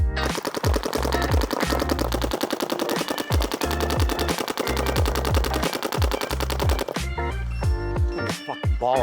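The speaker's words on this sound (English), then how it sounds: "Planet Eclipse CS3 Pro, about to shoot some unsuspecting cones" Planet Eclipse CS3 Pro paintball marker firing a long rapid string of sharp pops at close range, then a final few scattered shots.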